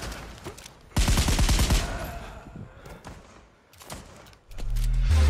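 Loud bursts of rapid automatic gunfire in Pavlov VR, a sustained volley followed by scattered shots and a heavy thump, with no talking.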